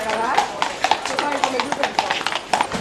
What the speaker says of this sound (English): there's horses, look